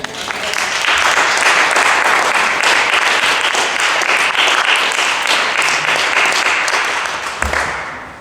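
A church congregation breaks into sustained, loud applause acclaiming the Lord, a dense wash of many hands clapping that swells, holds steady for several seconds, then tapers off.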